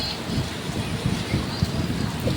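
Heavy rain pours steadily near a building, a dense hiss with low irregular thuds of drops striking surfaces, continuous and moderately loud.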